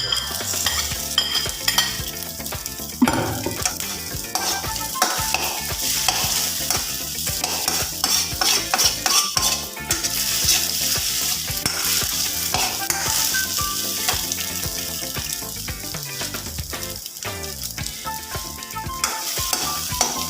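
Beef stir-fried in a hot pan makes a loud, continuous sizzle, with spatula scrapes and metallic clatter running through the whole stretch and no voices.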